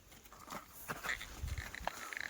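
Kathiawadi goats on a farm give a few short bleats amid a busy, noisy outdoor background, fairly close and moderately loud.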